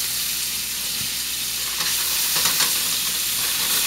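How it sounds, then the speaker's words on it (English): Food sautés in a hot pan for a stuffed chicken parmesan dish, a steady bright sizzle with a few soft stirring scrapes, close and alone. "we're just going to let that saute for a little bit."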